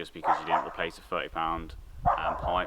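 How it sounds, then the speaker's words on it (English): A dog barks in repeated yips and bow-wows close by, overlapping someone talking beside a VW T5 van. "Sorry about the dog barking."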